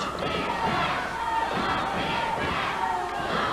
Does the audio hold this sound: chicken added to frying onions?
no